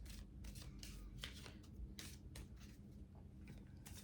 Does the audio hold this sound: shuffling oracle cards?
yes